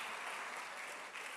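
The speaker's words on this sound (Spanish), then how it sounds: "¿Qué tal si le damos un aplauso al Señor?" Church congregation at a Spanish-language Sunday service applauds with sustained, dense clapping that holds steady throughout, heard at moderate volume with no talk over it.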